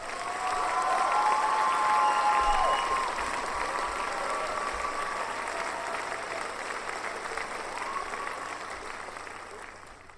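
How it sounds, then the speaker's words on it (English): A round of applause from a crowd, dense clapping that swells early then holds steady before easing slightly toward the end, with faint tonal sounds and brief murmurs over it. "Round of applause."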